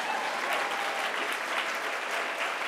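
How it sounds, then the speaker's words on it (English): Steady applause from an audience at an awards event, with many hands clapping at an even level throughout and no one talking over it. "you can clap for that"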